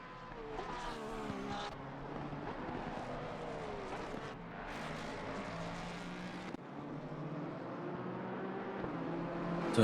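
Race cars in a simulated Bathurst endurance league event roar along the track, engines rising and falling in pitch as several pass in a continuous, fairly quiet stream with no talk.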